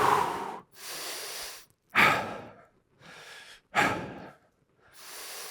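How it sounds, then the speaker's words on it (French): Heavy breathing follows a full-body HIIT exercise. Three loud, close exhales alternate with softer inhales in a slow, regular rhythm, with no speech. "Ok, on respire."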